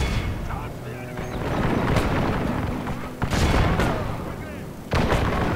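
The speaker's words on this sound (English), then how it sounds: "So right now they're getting some pretty good shots on me" Handgunner volleys crack and boom through an online Medieval II: Total War battle between Russia and Poland, with several sharp bursts over a dense rumbling battlefield din and talk running throughout.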